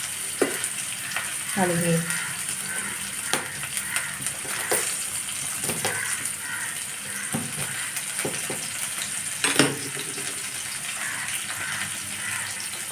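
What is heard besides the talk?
thinly chopped onions frying in a pan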